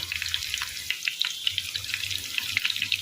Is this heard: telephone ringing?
no